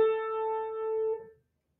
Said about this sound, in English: this one would sound like this on your piano.